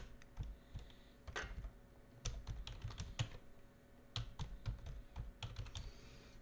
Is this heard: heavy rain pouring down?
no